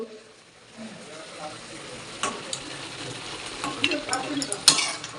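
Spinach and lentil dumplings (bori) being stirred in a pan, soft scraping and gentle frying crackle building up, with a few utensil taps near the end.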